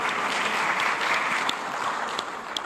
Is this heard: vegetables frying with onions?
no